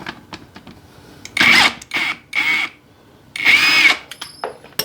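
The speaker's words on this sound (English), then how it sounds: "All right, got a ratchet on the back." Ratchet wrench working on the rear hub of a Kubota B7100 compact tractor, giving several bursts of close, harsh clicking of uneven length separated by short pauses.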